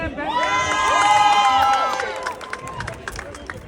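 A crowd of children cheers and shouts together at a school football final, a loud, high-pitched burst that swells and then fades into scattered voices.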